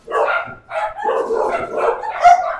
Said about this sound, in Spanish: Nuestros perros y los del vecino.